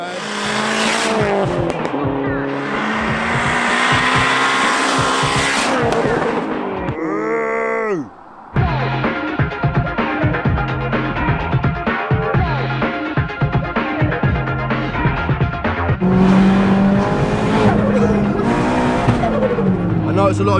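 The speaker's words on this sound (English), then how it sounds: "so this is basically it's compressor surge noise" A 500hp Vauxhall Astra VXR with a turbo and no blow-off valve, driven hard: loud engine roar rising and falling through gears, with fluttering compressor surge chatter between pulls and a brief drop near the middle.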